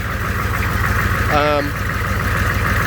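An AM General M1152 Humvee engine idles in a steady low rumble with a rapid regular beat, close and loud, while a brief voice sounds over it midway.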